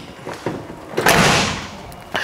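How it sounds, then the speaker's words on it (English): A door on a 1976 Chevrolet C10 pickup swings closed with one solid thud near the middle, followed by a short rattling decay and a lighter knock at the end. "door shuts pretty good there"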